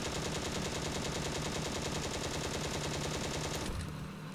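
Tank machine gun in the Steel Fury video game emptying a full belt, a loud, unbroken rapid burst of automatic fire that stops abruptly near the end, with no talking.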